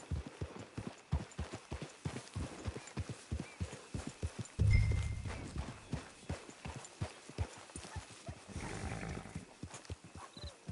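Hooves of a horse in a PS4 video game clip-clop in a steady, even rhythm, moderately loud and close, with a brief low rumble and a snort or whinny-like burst partway through.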